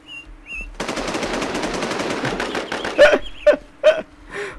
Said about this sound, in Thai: ฟังเสียงปืนดิ